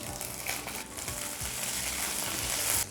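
Okra sizzles in a hot pan for Kerala sadya-style sambar, giving a dense, even hiss with faint stirring scrapes. It is close and continuous, with no talk.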